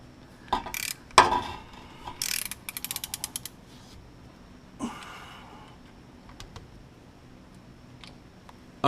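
Ratchet tightening differential plugs on a Saab 9-3, 9-5 or 9-4x Haldex XWD system: a quick burst of clicking pawl turns amid scattered clanks and creaks from the work, otherwise fairly quiet.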